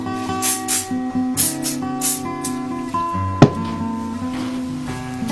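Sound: hairspray being sprayed on hair

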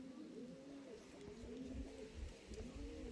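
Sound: racing pigeons cooing at training loft

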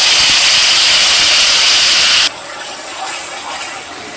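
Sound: spice paste sizzling in hot oil for hilsa fish curry

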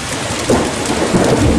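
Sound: hail hammering a back deck during a thunderstorm

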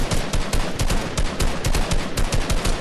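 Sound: shotgun fire in Fortnite video game

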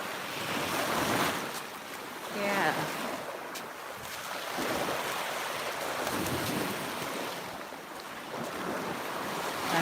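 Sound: sea waves at the beach

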